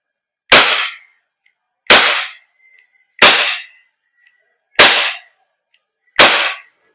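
An EMG Salient Arms International BLU S airsoft gas blowback pistol fires five evenly spaced, sharp, loud cracks, each with a short metallic tail, and brief quiet gaps between shots.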